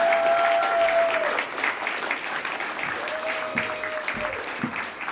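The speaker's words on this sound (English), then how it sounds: "Can I have a massive, massive round of applause for Dr." Dense audience applause fills a university course reps awards ceremony, many hands clapping steadily throughout at a loud, even level, with a faint tonal whistle or feedback line drifting over the crowd.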